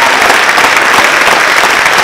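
A crowd claps, loud and dense, in a continuous burst of applause that runs steadily throughout.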